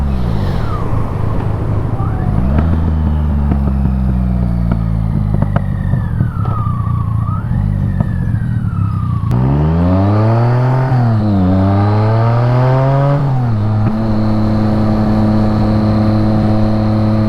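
A BMW motorcycle rides an empty highway on a cold Christmas Day. Its engine hums steadily up close, then revs rise and fall in smooth swells, with no talk.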